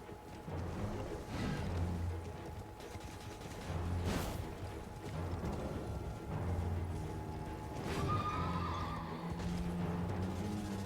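A horse in the Elden Ring video game whinnies loudly several times, with clopping hooves and clanking mechanical game effects mixed in, no voices.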